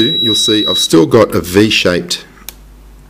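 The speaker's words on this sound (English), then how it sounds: "Sorry about the beeping, that's just the radio thinking that it's flying." An RC helicopter radio transmitter beeps with a steady high tone under a man's close, continuous talking. The tone cuts out partway through, and a single sharp click follows.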